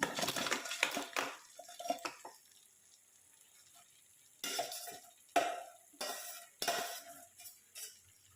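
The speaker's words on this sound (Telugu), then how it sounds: "మనం ముందుగా ప్రిపేర్ చేసుకున్న ఉప్పు, కారం పెట్టుకున్న పీతల్ని దీంట్లో యాడ్ చేసుకుంటున్నాను" Salted, spiced crabs going into a pan of curry masala: clattering shell and metal clinks with scraping stirring in loud bursts, a quiet pause in the middle, then more rattling knocks.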